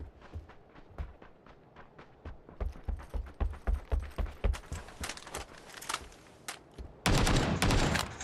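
Video game gunfire erupts in rapid bursts of sharp shots, quieter at first and then louder and denser, ending in a sustained heavy barrage, with no talk over it.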